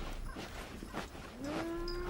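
Hungry cattle waiting for hay in deep snow give a long, rising moo that starts faintly and swells to a clear, drawn-out call at close range, after some quieter rustling.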